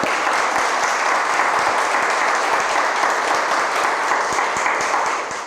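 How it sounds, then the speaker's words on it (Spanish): A church congregation applauding, sustained dense clapping from many hands filling the sanctuary, loud and even with no talk, easing slightly at the very end. "Démosle un fuerte aplauso"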